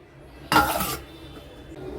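A single metallic clank of a lid being lifted off a pot of simmering rasam, bright and brief, followed by a quiet background hum.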